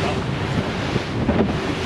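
Strong wind and rough ocean waves batter a small boat off a beach at Las Galeras, Samaná, in the Dominican Republic, with steady loud wind buffeting the microphone and churning surf throughout.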